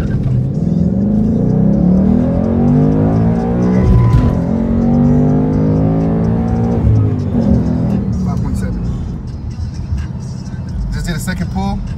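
A bone-stock Ford Mustang S550 accelerates hard from 0 to 60 mph, its engine note climbing steadily and loudly from inside the car, rising again after a brief dip, with a voice talking over it throughout.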